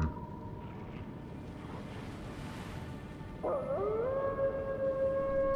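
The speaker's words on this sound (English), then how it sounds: "There are still wolves around." Wolf howling in the video game Elden Ring, a rising then long sustained howl starting midway, moderately loud over a constant low ambient rumble.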